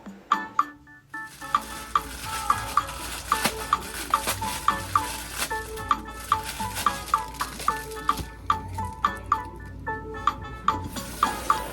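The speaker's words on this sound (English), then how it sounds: "new sponge, and just continuing on with the dishes" Dishes washed by hand with a new sponge at a kitchen sink, with steady running water and repeated clinks and knocks of plates and utensils throughout.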